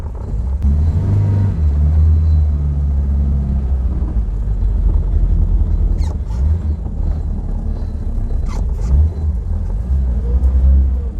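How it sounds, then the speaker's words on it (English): A car engine revs hard with wheel spin as the tyres lose grip, a loud, close, rumbling drone that surges and eases for about eleven seconds. "Whoops, wheel spin."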